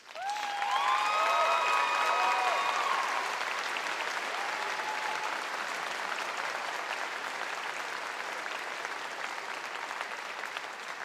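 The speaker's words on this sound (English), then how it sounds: "I think they all deserve a round of applause" A large crowd applauds university staff at a graduation ceremony, dense sustained clapping with a few whoops early on that gradually softens.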